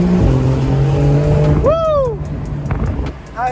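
A car out on a drive in Beverly Hills accelerates close by, with loud engine revs and a rising, sweeping whine, then a brief squeal and a quieter, uneven rumble as it pulls away.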